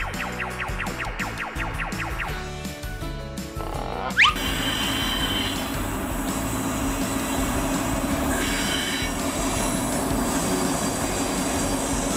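An orange locomotive rumbles along the rails with rhythmic clicking, then a brief sharp squeal as it rolls on in a steady, loud roar.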